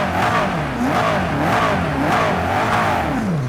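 A GT3 race car in the Project CARS 2 racing game revs hard, its loud, close engine note repeatedly rising and falling through the gears without any talk.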